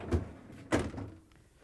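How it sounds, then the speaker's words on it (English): A refrigerator freezer door on an LG/Kenmore fridge opens with two soft thunks, the second one louder, then a short fading rustle, close by and with no voices. "To get to the part, we need to open the freezer door."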